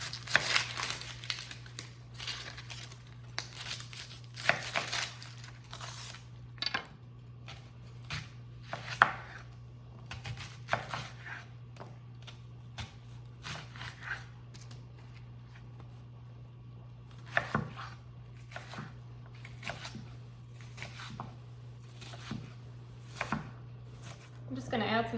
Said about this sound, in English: I'm gonna go ahead and cut up this onion.